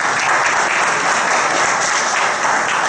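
A room full of people at a city council session in Valparaíso applauds a visiting councilman, a dense, sustained round of clapping that stays steady and loud throughout.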